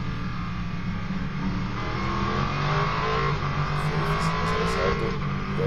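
A 5-litre, 450-horsepower V8 race car at a Daytona prototype race roars loudly and steadily, its engine note rising as it accelerates, with no voices.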